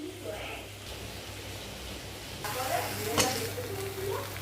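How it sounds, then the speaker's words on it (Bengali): Onion fries in a pan with bay leaf and dried chili for khichuri, a soft sizzle that swells into a brighter, louder hiss partway through, with a sharp stirring scrape near the end. "পেঁয়াজটা ভেজে নেব।"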